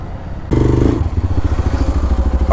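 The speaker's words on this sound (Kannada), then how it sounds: "ಈಗ ನಮ್ಮದು ಬೈಕು" Loud motorcycle engine revving up and running steadily as the bike pulls away on a ride, with rhythmic thudding exhaust pulses and road rumble throughout.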